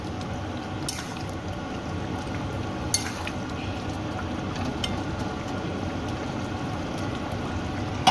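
A pot of fish curry with potatoes and fried fish roe fritters simmers steadily on the stove, giving a continuous low bubbling and sizzling with a few faint clinks, with no talk over it.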